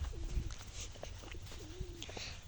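Pigeons coo softly at a distance outdoors, two brief rolling calls heard over faint background noise on a walk through an area of red soil.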